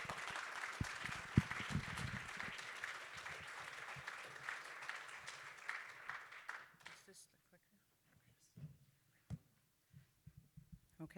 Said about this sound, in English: Can we give Dr. Little a round of applause?